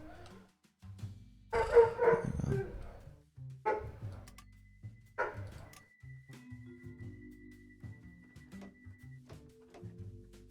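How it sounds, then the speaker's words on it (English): A dog barks several times in the background, a loud cluster of barks early on followed by a few scattered yips, with faint electronic train-simulator game tones running underneath. "Yeah, there's a doggy that's barking."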